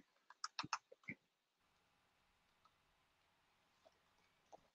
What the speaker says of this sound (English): okay, I'm typing really fast